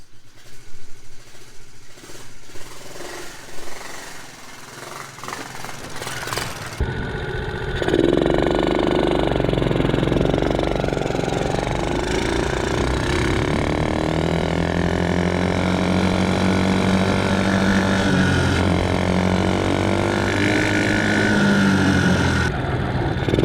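A 70cc Chinese ATV engine runs during a ride, first a rough uneven idle, then a steady loud buzzing drone with rising and falling revs as it is ridden, close to the microphone.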